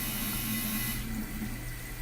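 Hot and cold water runs from the tap into a hand-washing sink in a body piercing studio, a steady close rush that thins out midway, with no talking.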